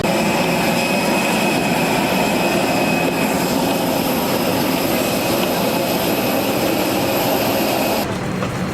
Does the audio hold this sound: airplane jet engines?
yes